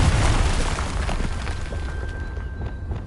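The Confringo fire-blast spell goes off in the video game Hogwarts Legacy with a loud, deep explosive boom that slowly fades into a rumbling, crackling tail.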